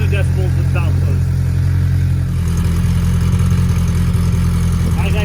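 A Polaris RZR Pro R fitted with an E-Valve muffler idles close by, a steady low exhaust rumble running throughout, with someone talking over it.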